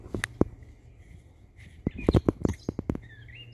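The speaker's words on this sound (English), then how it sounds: "That's a weird bird." An odd-sounding bird gives a series of sharp, bright chirps and clicks at close range, sparse at first and then in a quick irregular burst, with no talking over them.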